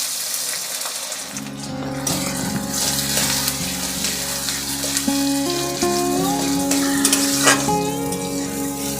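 Chopped onions fry in white oil with four cloves and four cardamom pods, a steady close sizzle running throughout with a few faint stirring scrapes and no talking.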